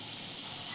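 Palm fruit fritters (taler bora) fry in oil in a kadai, giving a steady, close crackling sizzle with no break through a brief moment.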